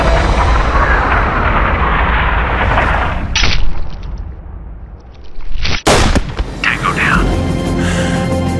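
A sniper rifle shot in Sniper: Ghost Warrior, one loud, sharp blast that cuts through a dense, rumbling background, followed by a lingering low roar.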